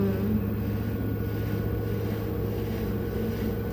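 LG F2V5GG9T washer-dryer drum in its spin cycle, a steady low mechanical hum with constant whirring that holds level throughout, with no voices.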